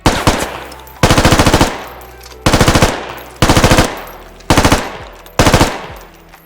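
Bursts of automatic M4 rifle fire in the military shooter game Squad, six rapid volleys each lasting about half a second, loud and close, with short gaps between them and no talking.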